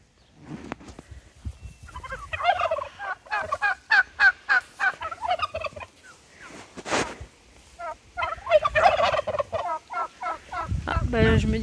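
Turkeys gobble in rapid, bubbling bursts, several calls overlapping at close range, with other farmyard fowl noises and some rustling between them.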